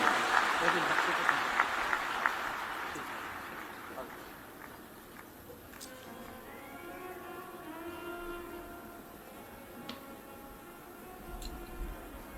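An audience at a Shiv Mahapuran religious discourse gives a short burst of applause that fades out within a few seconds, followed by a quieter hall with talking and low background noise.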